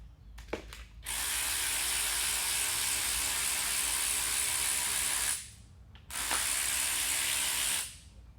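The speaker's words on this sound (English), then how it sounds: "go ahead and remove your tensioner" A ratchet loosens the timing belt tensioner on a Honda V6, running in two long, steady whirring bursts of about four and two seconds, loud and close, with a brief click before the first burst.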